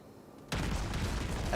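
Cruiser Mogami's main guns firing in World of Warships, a sudden loud naval cannon blast after a quiet moment, rolling into a sustained rumbling roar.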